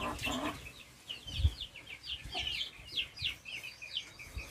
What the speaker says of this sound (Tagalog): So far, nandito rin yung mga malalaking manok ko.